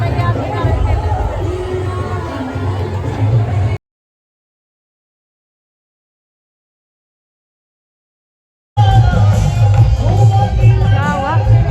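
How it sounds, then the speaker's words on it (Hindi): Steady fairground crowd hubbub at the Shoolini fair on Thodo ground, loud overlapping chatter that cuts out to silence midway and then returns just as dense. "मेले में इतनी ज़्यादा भीड़"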